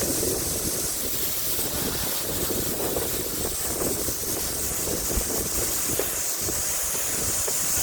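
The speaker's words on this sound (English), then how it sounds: "Nice and windy today." Steady wind blows outdoors during a car wash, a continuous broadband rush with gusty fluctuations buffeting the microphone throughout, loud and close with no talk.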